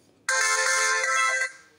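A short, bright Lava Agni phone ringtone plays once for just over a second, clear and close, then cuts off.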